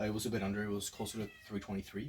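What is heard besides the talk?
cat meowing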